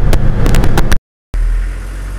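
Car arriving and driving in: a loud, close engine rumble with a few brief sharp knocks, cut by a short gap of silence, then resuming as a steady low drone.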